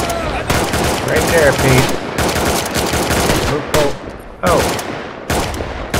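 Close, rapid rifle and machine-gun fire rattles in dense bursts on a World War I battlefield in Tannenberg, with brief pauses, while someone speaks briefly over it.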